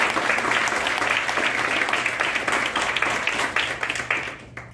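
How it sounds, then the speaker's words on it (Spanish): An audience at a public event on violence against women in Miami breaks into steady, sustained applause that thins out at the end. "Un aplauso, por favor."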